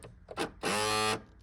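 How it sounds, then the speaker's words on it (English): A stripped plastic gear inside the steering wheel tilt motor of a 1992-2000 Lexus SC 300/SC 400 screeches in a harsh, buzzing whine lasting about half a second, after a couple of faint clicks, heard up close and alone. "This is because of a plastic gear inside the motor that is stripped, and it causes a screeching sound like this."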